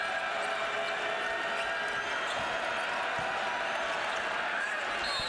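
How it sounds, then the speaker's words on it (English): A basketball arena crowd during a Georgia vs Arkansas men's college game produces a steady, loud, sustained roar with faint court noise. "The crowd's gotten into it"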